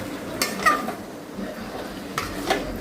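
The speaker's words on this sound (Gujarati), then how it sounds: "બધું એક આરે મસાલો મિક્સ કરી દેવાનો આવી રીતનું" A spoon stirs masala in a pot for Kutchi khari bhat, giving a few scraping strokes and light metallic clinks in a short, irregular rhythm, close up and moderately loud.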